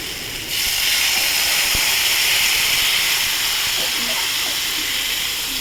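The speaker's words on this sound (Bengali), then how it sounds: "এবার আমি জল ঢেলে দিচ্ছি বন্ধুরা।" Water poured into a cooking pot of tangra fish curry: a loud, steady, rushing hiss begins about half a second in and continues unbroken, close by.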